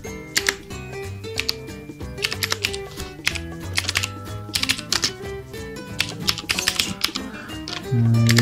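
Rapid, irregular computer keyboard typing of terminal commands, with clustered clicks and taps over a steady musical background, moderately loud throughout.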